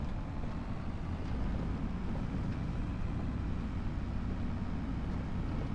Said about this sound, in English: let's take the Japanese tractor for a run.